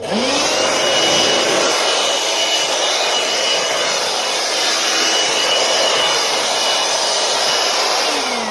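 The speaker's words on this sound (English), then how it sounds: "It's battery operated, so you can operate it inside. But you can blow off your work area." A battery-operated blower roars loud and steady at close range for the whole stretch, blowing off a work area during a water-damaged wooden floor repair, with no talking.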